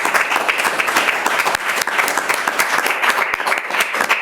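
Loud, lively applause from an audience at a public dialogue on playwriting, dense clapping with distinct sharp hand claps standing out over a continuous crowd patter.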